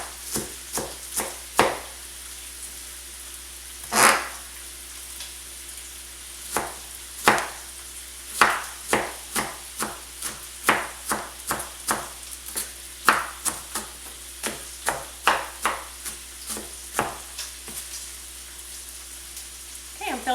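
Knife chopping onions into rough pieces for potato soup, a string of sharp, irregular board taps, some quick clusters and some spaced out, close and clear with no talk over them.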